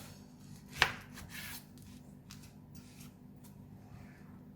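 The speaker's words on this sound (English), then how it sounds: "Okay, and cut it into half again." A knife cuts through a peeled pineapple, halving it in a single sharp, close crunch against a cutting board, followed by quiet background hiss.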